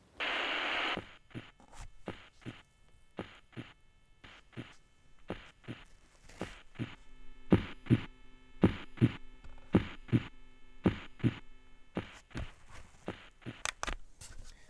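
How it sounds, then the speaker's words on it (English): A recorded heartbeat played as a soothing sound, the steady lub-dub pulses thudding in a regular slow rhythm after a short burst of hiss at the start, clear and fairly close. "Heartbeat."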